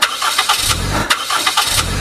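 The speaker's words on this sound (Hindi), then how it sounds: "ग्रर ग्रर की आवाज आई, पर स्टार्ट नहीं हुआ।" Car engine cranking without catching, a loud rapid rhythmic churning from the starter motor in repeated pulses that keeps going and never settles into an idle.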